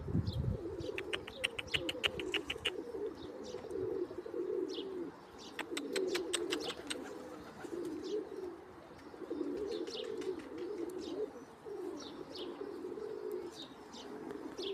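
Pigeons coo softly and continuously, with quick bursts of wing flapping and a few chirps scattered through. The sounds are fairly quiet and close. No one speaks.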